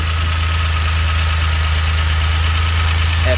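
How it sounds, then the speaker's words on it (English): A DeLorean engine idles at its lowest RPM, a steady, close, continuous low drone with even rhythm and no speech. "this is idle. Okay, this is the lowest RPM that my engine will ever be turning"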